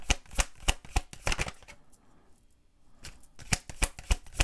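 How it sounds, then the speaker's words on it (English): A deck of tarot cards shuffled in quick riffling bursts, each a sharp rapid flutter, with a pause in the middle before the shuffling resumes; close and alone, no talking. "This is a very hard deck to shuffle."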